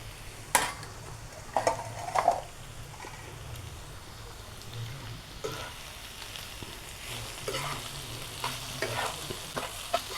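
A fish curry stirred in a frying pan with coriander leaves scattered over it, a low sizzle broken by scraping strokes and spoon knocks against the pan, some louder than others, close up with no talk.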